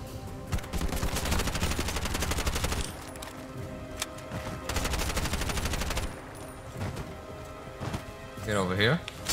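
Rapid automatic gunfire rattles in long bursts in the shooter game Bright Memory Infinite, loud and close, with pauses between volleys and someone talking over parts of it.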